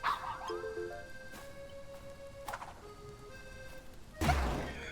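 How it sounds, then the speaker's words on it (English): A creature in the video game Lumentale gives a few short, alarm-like barks over a bed of game music, followed by a louder crashing hit near the end. "Its bark sounds like an alarm."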